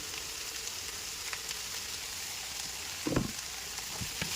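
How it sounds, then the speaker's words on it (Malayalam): Onions sautéing in a pan for a coconut-milk chicken curry, a steady soft sizzle running throughout with a few brief clinks of a spoon near the end. "ഇനി സവാള ഒന്ന് വഴലുന്ന ടൈം നമുക്കൊന്ന് വെയിറ്റ് ചെയ്യാം"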